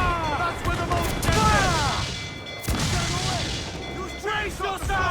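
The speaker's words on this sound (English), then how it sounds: "Cannon ready! Fire!" Ship cannons firing in Assassin's Creed 4 Black Flag, heavy booms in a naval battle, with a couple of sharp blasts amid shouted voices and crew chatter.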